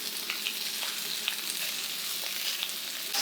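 Shrimp fry in olive oil in a pan with a steady, dense sizzle and occasional small pops, close and even throughout, no voices.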